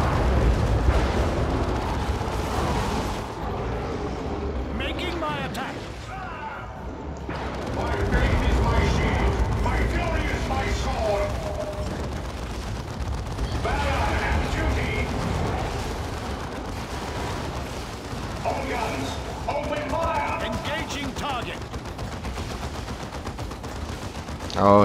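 Heavy bolter turret fire in Warhammer 40k Dawn of War II, Last Stand mode: sustained, loud bursts of rapid battlefield gunfire and explosions rolling on without pause, layered under game noise and occasional voices.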